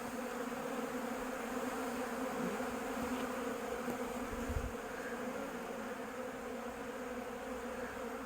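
A steady swarm of honeybees drones continuously around a box of wet frames near a bee yard during robbing, a dense buzzing that fills the scene without pause, no voices present.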